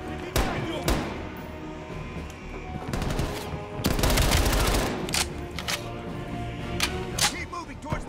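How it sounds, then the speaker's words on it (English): Rapid bursts of gunfire from a Call of Duty Black Ops Cold War match, loud and close, with sharp repeated shots and a dense volley near the middle, mixed with other game sounds. "I shot again."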